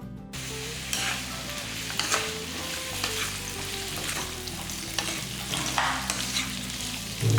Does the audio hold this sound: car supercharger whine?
no